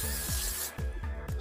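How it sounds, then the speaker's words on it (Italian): Brake cleaner sprayed as a degreaser while cleaning old oil and gasket off a car's rear differential, heard as two or three short, close hissing bursts in quick succession. "spray per pulire i freni che è un ottimo sgrassatore"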